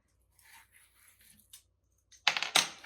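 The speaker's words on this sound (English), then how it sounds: "I'll go ahead and cut it off now." A 2.5 pound thrown pottery bottle is cut free from the wheel head: faint scraping and swishes, then two loud, close, sharp scraping pulls near the end, with no talking.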